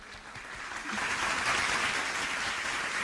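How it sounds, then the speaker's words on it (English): A crowd applauds, the clapping swelling quickly into a dense, steady roar of many hands. "Let's give a round of applause for our Global Forum today"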